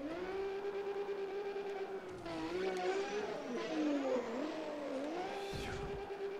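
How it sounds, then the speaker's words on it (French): A car drifting in the racing game Need for Speed ProStreet, with a sustained engine drone that rises and wavers through the slide, shifting pitch and whining, heard steadily over several seconds without clear talk. "Ah, c'est juste drift ça."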